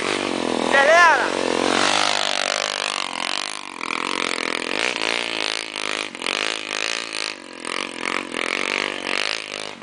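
An NX 200 motorcycle climbing a dirt trail up a hill, its engine droning and revving continuously throughout, loud and close, while people shout and talk over it.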